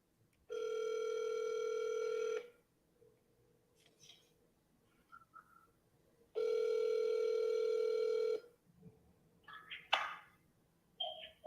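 A steady telephone dial tone sounds twice, each lasting about two seconds, with quiet clicks and faint noises between them as a call to a property seller is placed.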